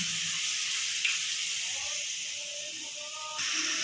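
Spice paste of salt, turmeric, cumin and green chilli sizzling as it is sautéed slowly in oil, a soft continuous hiss with a few faint clinks, steady and close.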